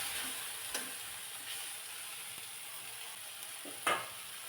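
Wild greens stir-fried in a pan give a steady soft sizzle, with a few faint scraping stirs and a sharper clink near the end.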